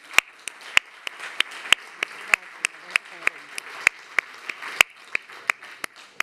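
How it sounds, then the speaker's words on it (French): Scattered hand claps ring out at a steady, unhurried pace, sounding like a small group applauding rather than a large crowd. "On peut vous applaudir."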